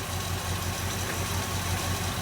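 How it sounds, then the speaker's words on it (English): A 1967 Buick Skylark engine idles steadily, a low even rumble with a faint rhythmic pulse, close and continuous with no voices. "it fired right up."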